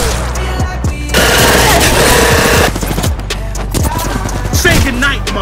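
Gunfire from a battle-royale video game like Apex Legends or Warzone: loud, sustained automatic bursts with heavy booming impacts, continuous and close throughout.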